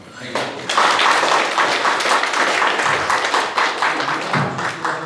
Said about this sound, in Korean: 주민 대표로 우리 그 시장님께 박수 한번 보내주시기 바랍니다